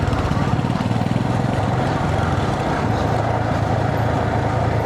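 A motorbike engine runs steadily and loudly up close, a continuous throbbing drone with no letup for the whole stretch.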